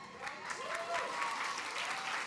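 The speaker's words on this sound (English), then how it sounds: "We should all be clapping for that." Audience applause fills a library grand opening ceremony, a steady wash of many hands clapping close by that holds evenly throughout without a break.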